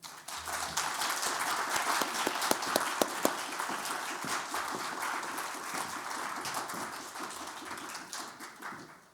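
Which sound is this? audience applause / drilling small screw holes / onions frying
audience applause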